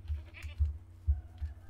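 Goats in the medieval farming game Medieval Dynasty, several short low bleats in a steady rhythm, about four calls in quick succession, moderately close with faint background ambience.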